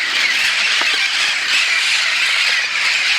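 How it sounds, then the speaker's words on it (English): Flock of parrots squawking continuously, a dense bright screeching chorus filling the air with no breaks. "We're getting attacked by parrots."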